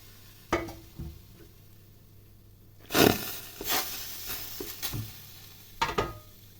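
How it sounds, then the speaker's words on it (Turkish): Eggplant sizzles in a deep pot, broken by a few sharp scraping bursts of stirring, with quiet gaps between them. "derin bir tenceremize patlıcanlarımızı koyalım"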